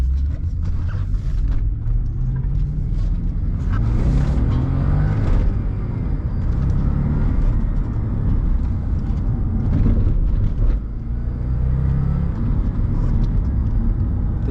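A 2010 Audi S5 with a V8 and six-speed manual gearbox drives steadily, its engine humming and rising smoothly under continuous road rumble heard from inside the cabin.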